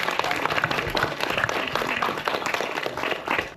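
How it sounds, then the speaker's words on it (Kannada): Audience applause for Suprit of KVN Production on stage at a meet-and-greet event in Dubai: dense, steady clapping from a crowd, filling the whole stretch at a fairly loud, even level. "Suprit, ಜೋರಾದ ಚಪ್ಪಾಳೆ ಬರಲಿ."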